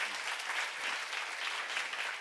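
Applause from an audience at a church seminar on Acts, a steady wash of many clapping hands that is fairly soft and somewhat distant and holds evenly throughout.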